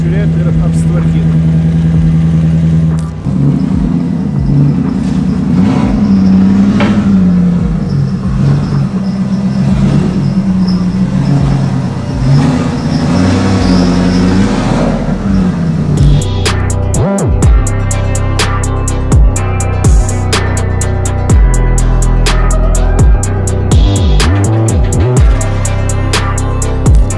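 A car engine idles while warming up, a steady low hum heard up close under loud continuous talk, then it revs and the car is driven into a garage amid clicks and shifting noises.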